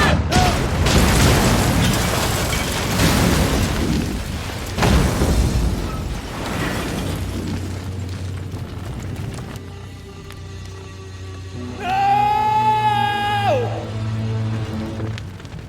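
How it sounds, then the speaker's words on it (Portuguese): A bomb goes off in a dubbed feature film: heavy booming blasts and rumbling debris under shouting voices, then a quieter stretch with a rising tonal sound near the end. "É uma bomba!"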